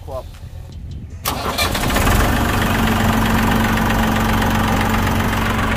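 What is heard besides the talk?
Massey Ferguson 241 tractor engine starting and idling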